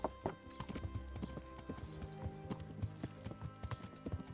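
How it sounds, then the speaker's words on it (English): Horse hooves at a slow canter in the video game Kingdom Come: Deliverance, a quiet, uneven run of soft clip-clop beats repeating throughout, with faint ambient tones beneath and no voices. "Slow canter."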